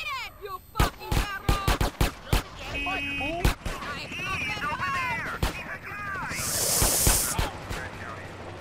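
Sharp gunshots crack out in GTA San Andreas, a string of loud, separate reports at first, then sparser shots, while someone talks excitedly in German throughout.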